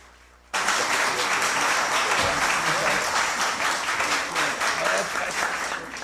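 Audience applause breaks out suddenly at a Chico Mendes environmental award ceremony in Brazil, a dense sustained clapping from a large crowd that holds steady for several seconds, with faint voices mixed in.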